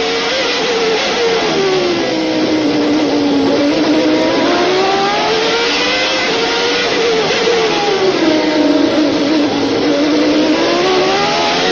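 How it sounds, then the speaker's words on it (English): A Williams Renault Formula One engine screams at racing speed, its high pitch rising and falling through gear changes and corners, loud and continuous. "Let's listen to the sound of this Renault engine as Terry Boutsen takes us around."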